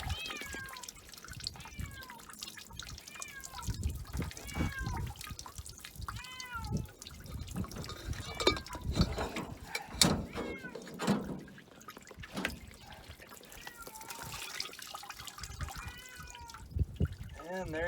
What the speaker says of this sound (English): And you get the cat.